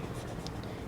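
Marker or chalk writing out a chemistry reaction on a classroom board makes a faint, continuous scratchy stroke with small squeaks, quiet and close, heard alone.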